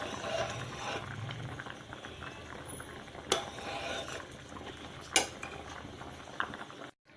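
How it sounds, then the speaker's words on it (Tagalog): Thick champorado with chocolate bubbles in a pot while a spoon stirs it, a soft continuous simmer broken by a few sharp clinks of utensil on metal, fairly quiet with no talking. "kumukulo na po yung champorado. Haluin lang po natin"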